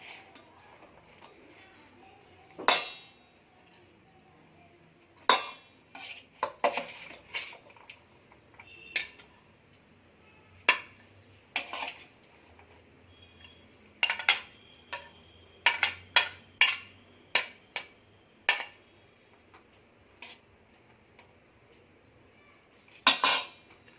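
Serving plate and dishes handled in a home kitchen while plating vangi bath, a scattered series of sharp clinks, taps and clatters of varying loudness spread across the clip, with quiet pauses between.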